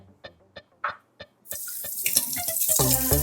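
A few light clinks and knocks, then a tap turns on and water runs steadily into a sink, splashing over dishes.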